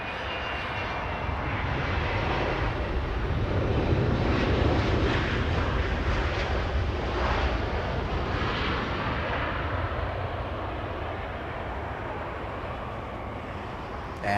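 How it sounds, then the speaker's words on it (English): A Delta Air Lines Boeing 757 flies in to land at Los Angeles International Airport, its engines a loud, steady broadband roar that holds throughout, swelling slightly midway and easing off toward the end. "Delta Airlines, this one. A 757 flying in from Reagan National."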